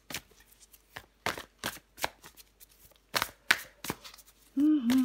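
Tarot cards are handled and shuffled during a card reading, a quick series of soft close slaps and flicks, with a brief voiced sound at the end.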